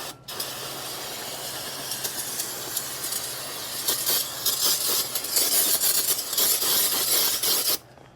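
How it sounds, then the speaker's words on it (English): Brake cleaner sprayed onto car brake parts: a loud, close, continuous aerosol hiss lasting about seven seconds, growing harsher and more forceful in the second half before stopping abruptly. "Let's try and brake clean the rest of this off"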